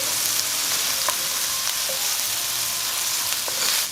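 Tomatoes sizzling in a hot pan for Cajun pasta, a steady, close, hissing fry with faint pops and crackles, no talk.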